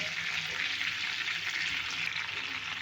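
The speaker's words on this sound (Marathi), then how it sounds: "मी इथे एक पळी तेल टाकलेलं आहे आणि बटर टाकलेलं आहे आता याच्यामध्ये टाकणार खडे मसाले" Whole spices sizzling in a ladle of oil and butter in a pan, a steady close hissing fry that stays even throughout.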